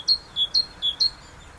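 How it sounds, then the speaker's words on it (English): A great tit sings a quick run of five bright, high two-note phrases in steady alternation, then falls silent, close and clear over a quiet background. "if you can't recognise a singing bird, it's probably a great tit"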